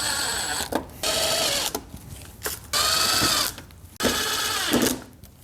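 A power driver whirs in short bursts while screws go back into the headlight housing of a Chevy OBS truck, several close, loud runs of a second or so each with brief pauses between them.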